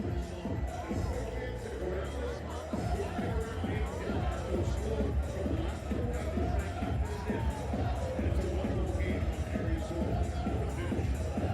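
A large hockey arena crowd during a game, a dense, continuous roar of babble and cheering that fills the whole space, with a voice talking over it.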